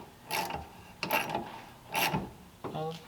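A ratchet tightens a bolt on an old-school trunk lid popper on a 1938 Ford convertible, giving three or four short bursts of clicking with pauses between them, close and fairly clear.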